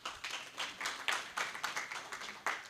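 Audience applause at a stakeholders workshop in Ghana, with soft, irregular clapping from a modest crowd, steady for a few seconds without talk.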